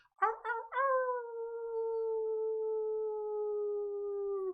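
A person imitates a wolf howl up close: a few quick yipping rises, then one long, steady, sustained howl that holds its pitch and fades out at the end, with no other sound around it.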